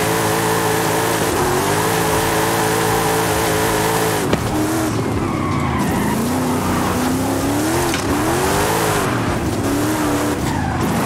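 A car with over 1000 horsepower drifts in the Forza Horizon 5 racing game, its engine roaring and tires squealing loudly and continuously, the pitch rising and falling as it slides.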